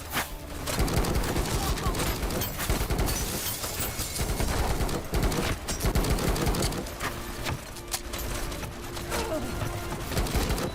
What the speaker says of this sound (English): That was a grenade, wasn't it?